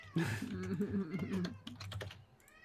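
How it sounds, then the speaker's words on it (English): A cat in a room lets out a loud, drawn-out meow over steady computer keyboard typing, with a voice nearby. "Oh, my cat's screaming over there."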